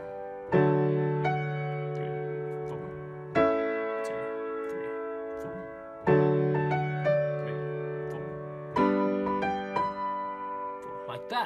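A piano plays the Teletubbies theme in four repeated phrases, each struck chord ringing out and fading before the next, clear and close with no talk over it.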